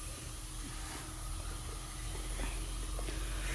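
A pressure washer pre-sprays mildew inhibitor onto a green mesh on a lake-view patio, giving a steady, close, broadband hiss that runs unbroken throughout.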